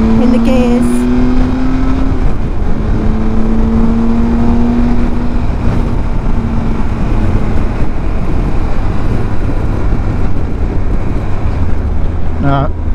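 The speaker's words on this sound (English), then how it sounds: "I'm changing up and down gears in funny places just for the benefit of a gear change." A motorcycle engine rises and falls in pitch as the rider shifts up and down through the gears, with broad wind rush over the microphone and a voice speaking over the ride.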